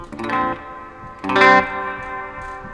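Two sustained guitar notes ring out through a washy reverb effect from a Ventris Dual Reverb pedal, each swelling and then trailing off into a lingering shimmer.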